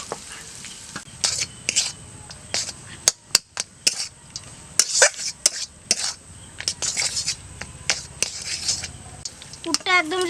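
Boiled potatoes are added to a pan and stirred for a singara filling: repeated scraping and clinking of a spatula against the metal pan over a soft sizzle, close and uneven.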